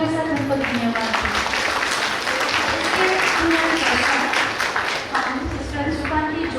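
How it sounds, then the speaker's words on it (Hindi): An audience at a stage programme for a Daughters of the Cross first profession ceremony in Rourkela claps loudly in thanks, a continuous crowd of hands with a voice carrying over it. "तो चलिए जोरदार तालियों के साथ उनको धन्यवाद दें।"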